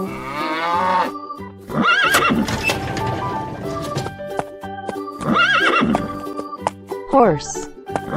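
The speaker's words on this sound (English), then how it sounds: "Horse." A horse neighs in a loud whinnying call, then a second whinny follows a few seconds later, with hoof clip-clops and a bright, cheerful background melody playing throughout.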